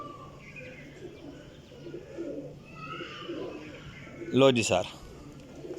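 Female pigeons from a Teddy breeder pair cooing close by in low, soft murmurs, followed by a short spoken phrase from a man.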